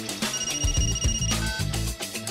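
A telephone rings in a playful cartoon classroom setting over background music, its bright repeated ringing tones running through most of the short stretch at moderate loudness.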